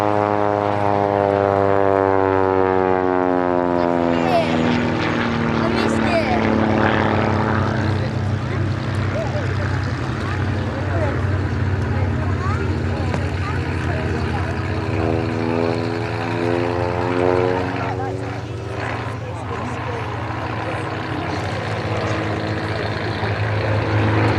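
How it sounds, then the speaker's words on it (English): Spitfire and Hurricane propeller aircraft taxi out at a 2005 airshow. Their engines drone steadily at moderate distance, with rising and falling pitch as they pass, and a faint voice talks over the sound. "Spitfire and Hurricane are taxiing out"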